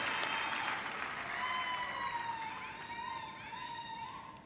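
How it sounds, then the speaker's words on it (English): An auditorium crowd at a university graduation ceremony claps in a dense, continuous wash, somewhat distant, with high wavering whoops or ululations riding over the applause. "Can we just give another round of applause to Prof. Zita and the supervisors of the Faculty of Education."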